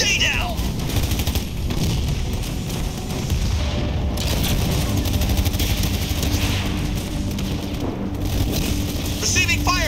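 Gunfire from ground troops in the video game Halo Wars 2: dense, continuous battle noise of shots and booms under the whole stretch, with voices calling out over the fighting.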